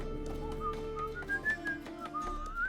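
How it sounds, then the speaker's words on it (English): A character whistles a wandering tune while playing the knife-between-fingers game in The Witcher 3, the clear melodic whistle rising and falling over a low in-game background hum, with faint taps between notes. "He's whistling while he does it too"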